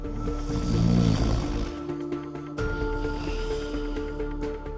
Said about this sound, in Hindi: पुलिस खर्राटे ले रही है